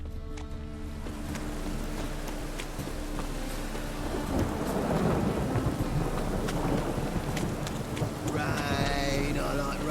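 A thunderstorm in the video game The Witcher 3 rumbles with deep rolling thunder over steady, heavy rain, loud and continuous throughout.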